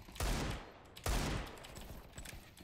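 Two sharp bursts of video game gunfire crack out about a second apart, each trailing into a rattling decay, faint and without talk.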